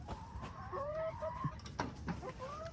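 Backyard chickens clucking and murmuring close by, with several short warbling calls and a few sharper clucks overlapping in a steady low chatter, no talking.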